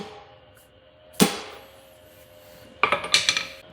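A socket is used to tap the gland back onto a Kubota hydraulic cylinder, giving one sharp metallic knock followed a moment later by a quick cluster of lighter knocks, close and with no talking.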